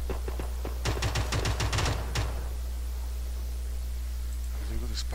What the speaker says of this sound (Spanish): Oigo disparos por aquí